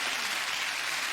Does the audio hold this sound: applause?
yes